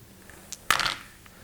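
Dice clatter briefly and sharply onto a tabletop during a game of X-Wing miniatures, a single short rattle close by with no talk.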